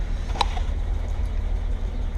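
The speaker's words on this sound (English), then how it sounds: "Starts right up real easy. It's quiet when I take it out of gear." Steady low rumble of a 1952 Dodge pilot house truck engine idling smoothly out of gear, a constant close drone with a brief faint click near the start.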